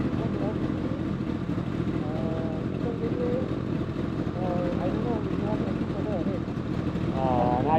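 Kawasaki sport bikes, including a Ninja ZX-10R, ZX-6R and Z800, ride through city streets in Malaysia, their engines a steady, dense drone close by, with voices talking over the rumble.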